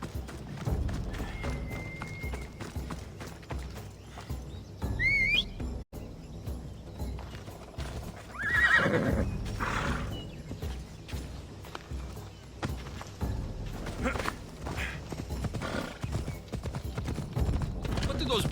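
Rhythmic clip-clop of horse hooves in Assassin's Creed Odyssey, steady under ongoing talk and game sounds, with a brief whinny partway through.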